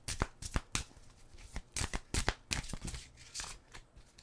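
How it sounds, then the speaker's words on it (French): A deck of tarot cards being shuffled and a card drawn: a quick run of crisp riffling snaps and soft slaps in an irregular rhythm, close up with no talking. "On va aller chercher une carte conseil pour vous."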